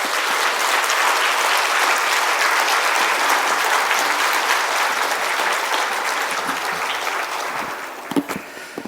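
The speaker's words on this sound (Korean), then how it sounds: "우리 박수로 목사님 모시도록 하겠습니다" A church congregation applauds to welcome a pastor to the pulpit at a Wednesday evening service, a full steady wash of clapping that gradually fades toward the end.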